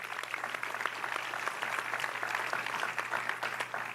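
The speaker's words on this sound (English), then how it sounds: "Let's give him a round of applause." Applause from the crowd at a town hall meeting with the mayor, a sustained, even clapping at moderate distance with no talking over it.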